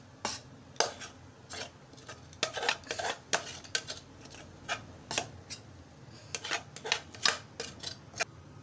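Metal scraping and clanking as cooked rice flour dough is scooped out of a pot into a wide plate, a sequence of sharp, irregular knocks and scrapes at close range with no talking.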